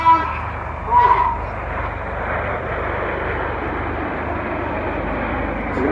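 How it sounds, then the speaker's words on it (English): A Typhoon fighter jet flies a display at an airshow in Bournemouth, producing a broad, steady engine roar. The roar stays fairly even throughout, with a brief louder swell near the start. "Red One about to pull up, the smoke's about to come on for the Typhoon roll."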